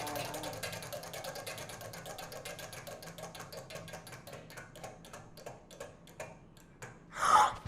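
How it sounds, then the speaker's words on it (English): A prize wheel spins with rapid ticking that gradually slows and spreads out until it stops, followed by a sudden excited vocal gasp or shout at the end. "we're gonna spin the wheel"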